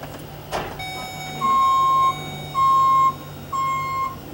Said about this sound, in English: Got the rear backup beeper.